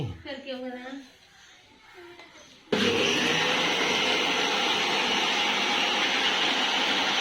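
A mixer grinder grinding dosa batter roars on abruptly after a few seconds of someone talking, then holds a loud, steady whirring drone to the end.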